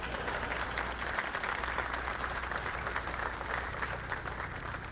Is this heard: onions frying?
no